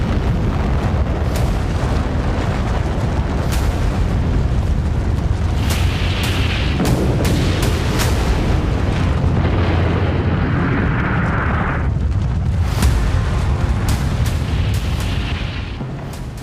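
An atomic bomb explosion booms and rumbles loudly and continuously, with deep rolling blasts and sharp crackling bursts layered throughout before fading slightly at the end.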